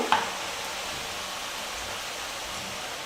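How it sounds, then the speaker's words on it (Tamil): Murukku dough made with peanuts frying in hot oil, a steady, even sizzle and hiss that holds unbroken throughout with no voices. "மாவு வந்து எண்ணெயில் போட்டுக்கலாம்"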